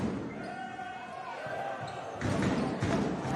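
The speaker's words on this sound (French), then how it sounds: "ça rebondit fort sur l'arceau" A basketball bangs hard off the rim during a French women's league game between Charnay and Charleville-Mézières, heard under steady crowd noise and commentary in the arena.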